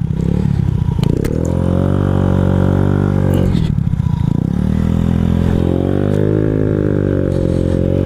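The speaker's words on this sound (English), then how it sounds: "So I decided I will take the Ruckus into the grass." Honda Ruckus scooter engine running steadily while riding off-road across grass, with a droning hum that rises and falls in pitch as the throttle changes, close and loud, with occasional rattles.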